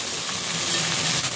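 Okra (bhindi) fries with cumin in a pan, giving a steady, dense sizzling hiss that holds at an even level throughout with no voices.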